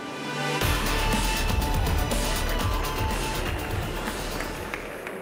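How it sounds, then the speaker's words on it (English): Large audience applauding a keynote speaker from Intel at a conference: dense, steady clapping that starts abruptly and stays loud throughout, with no voices over it. "Give a warm round of applause for him."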